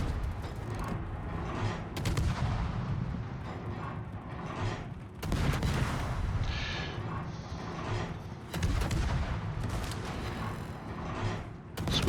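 Anti-aircraft guns aboard the Tier X US heavy cruiser Hawaii firing in World of Warships, a dense rapid barrage of blasts and rumble with sharp bursts recurring across the span, loud and continuous without talk.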